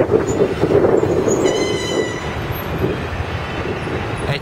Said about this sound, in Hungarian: És begördül elénk egy nosztalgia villamos is.